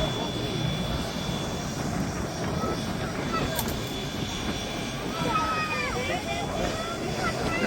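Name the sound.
B-17G Flying Fortress engines during an air display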